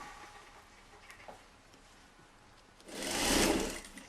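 A sewing machine runs in a short loud burst while stitching a basque corset from a Les Fées kit, with quieter workshop sounds before it.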